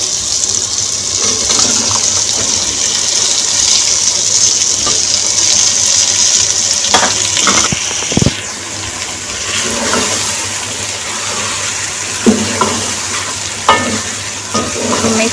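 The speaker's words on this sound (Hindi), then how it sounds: "अब इस टाइम पे मैं इसमें कद्दू डाल रही हूँ।" Pumpkin is tipped into sautéed tomatoes and onions and stirred for kaddu sabzi, producing a loud steady sizzle broken by sharp clanks and scraping strokes of a spoon against the pan.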